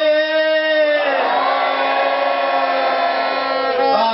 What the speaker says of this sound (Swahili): Nataka nisikie makofi mengi sana kwa ajili ya jambo hili.